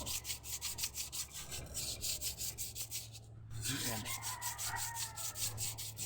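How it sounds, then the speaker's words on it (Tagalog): Rhythmic back-and-forth scraping of sandpaper on wood, quiet and close, pausing briefly midway before the strokes resume. "Lihain lang. Kabilaan."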